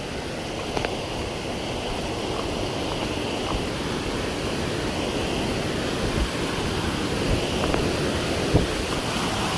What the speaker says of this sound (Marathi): आवाज बघा कसं येतं पाणी